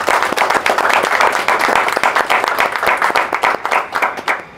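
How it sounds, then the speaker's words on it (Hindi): An indoor audience at a talk applauds together, a loud dense wash of hand claps holding steady for several seconds before thinning toward the end. "तो सबसे पहले आपके लिए ताली बजाइए."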